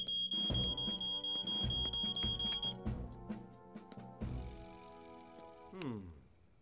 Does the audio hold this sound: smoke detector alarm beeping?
yes